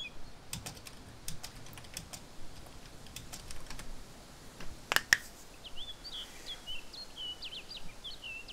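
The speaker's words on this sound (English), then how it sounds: "Is he still typing to you?" Fingers patter on a computer keyboard in quick, light bursts of clicks with irregular spacing, faint and close over a steady background hiss, with a couple of sharper taps midway and no talk.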